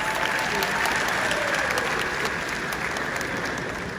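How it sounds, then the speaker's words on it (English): Conference audience at the NBA Conference in Enugu State applauding loudly, a continuous dense roar of clapping that holds steady for the whole stretch and tapers slightly at the end, with no speech. "Please let's give him a round of applause."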